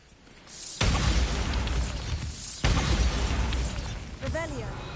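The Bombarda blasting spell in Hogwarts Legacy detonates twice in succession, each a sudden loud boom followed by sustained rumbling and shattering debris, with a short whooshing magical effect near the end.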